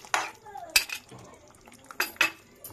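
A spoon stirs an egg chilli mixture in a pan, with several sharp clinks and scrapes against the metal spaced through a quiet background.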